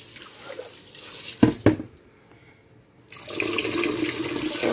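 Tap water running over rice in a bowl to rinse out the starch, a few sharp splashes and clatters, a brief near-silent pause, then a steady close stream of running water, with no voices.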